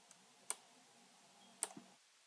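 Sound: computer mouse click

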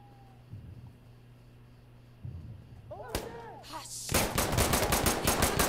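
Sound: gunshots in a shooter video game

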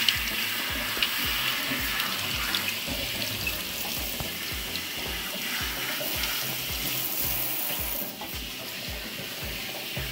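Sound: tap water rinsing an HRV filter

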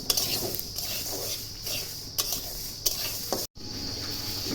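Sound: frying mustard, fennel, nigella seeds and chilies in pan

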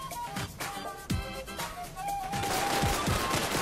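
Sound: pistol gunfire in Fortnite video game

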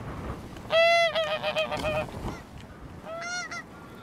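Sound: geese honking while flying in off the sea

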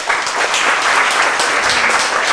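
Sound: audience clapping weakly

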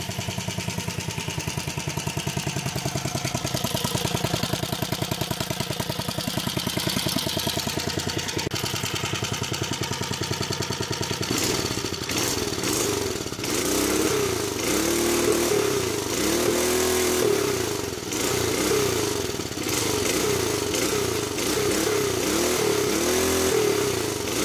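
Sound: Tecumseh engine motorized bicycle running

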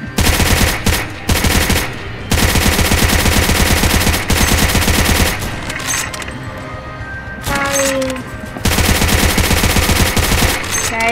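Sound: gun firing in a zombie video game

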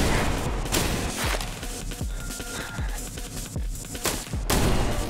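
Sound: gunshots at a barrel in video game I Am Your Beast

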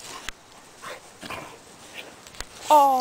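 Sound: dogs growling and barking in backyard

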